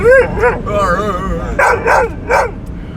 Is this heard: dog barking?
yes